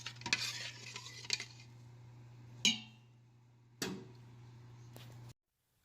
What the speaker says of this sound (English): I'm going to add the rice in here now. Adding my rice. Going to stir it.